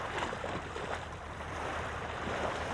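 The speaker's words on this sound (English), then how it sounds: "Right now it's windy and it's chopped up." Wind-chopped ocean water slapping among shoreline rocks, a steady broadband wash with gusty wind noise and no clear individual waves, fairly close and continuous.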